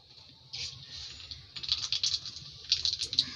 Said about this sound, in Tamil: கடாயில் எண்ணெய் ஊற்றியாச்சு. இப்போ கடுகு போட்டுடலாம்.